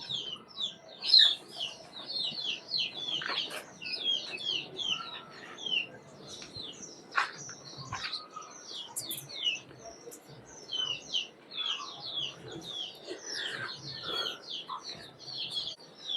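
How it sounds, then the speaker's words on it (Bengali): Pigeons, Maxi Huma among them, kept in an open rooftop aviary, with busy chirps and calls repeating throughout alongside scattered clucking fowl sounds, moderately close and steady, no one speaking. "এই যে মাক্সি পেয়ারের আরেকটা কবুতর মাক্সি হুমা"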